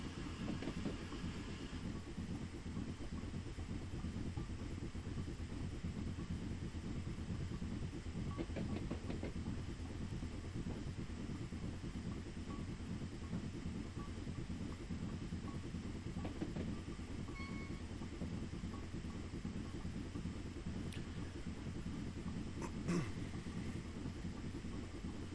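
A simulated train crosses the Ribblehead Viaduct, heading toward Settle in Train Simulator 2021, with a steady, continuous rolling rumble and faint clickety-clack throughout and no voices.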